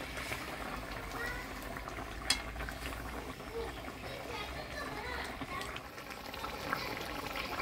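Pangasius fish curry gravy with green tomatoes simmers in a pot, a steady dense bubbling that holds evenly throughout, with muffled background activity and a voice faintly behind it.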